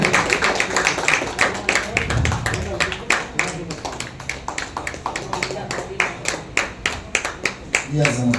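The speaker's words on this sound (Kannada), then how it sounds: "ಎಲ್ಲ ಚಪ್ಪಾಳೆ ಹೊಡೆದ್ರೆ ಏನು" Steady rhythmic clapping from a crowd at an awards ceremony, sharp repeated hand claps filling the whole stretch with a few voices mixed in.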